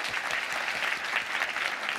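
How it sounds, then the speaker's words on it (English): A conference audience at a Stanford Medicine event gives the panelists a round of applause, a full, steady wash of many hands clapping at even loudness for about two seconds. "Let's give them a round of applause"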